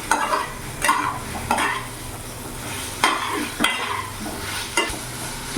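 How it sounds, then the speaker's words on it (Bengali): Fried potatoes being stirred into a pan for vegetarian aloo dum, with soft frying sizzle underneath and intermittent scraping strokes of a spoon recurring every second or so; no talk. "এরই মধ্যে আমি ভাজা আলুগুলো দিয়ে দেবো, ভালো করে মিশিয়ে নেব"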